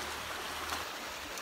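A cold river in Switzerland flows in a steady, close, broadband rush, with no voices over the constant wash of moving water.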